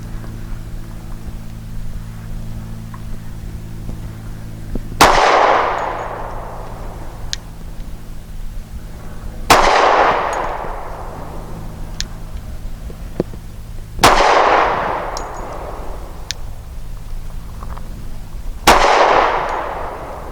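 Four sharp pistol shots from a Rock Island 3.1 inch double-stack .45 firing Gecko ammunition ring out outdoors, evenly spaced about every four and a half seconds, each loud crack followed by a short decaying echo over a steady low hum.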